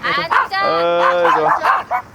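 A formerly abandoned puppy, a rescue dog, gives a short run of yips and whiny, wavering barks, close and fairly loud indoors, in several bursts over about two seconds.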